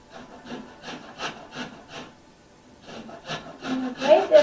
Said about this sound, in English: I'm going to grate this up.